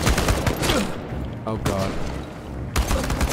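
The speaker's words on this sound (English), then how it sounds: "now I've got to use my rifle" Rifle gunfire in the video game Chernobylite, rapid loud bursts of shots at the start and again at the end, with a voice speaking between them.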